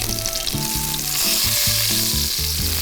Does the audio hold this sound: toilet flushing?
no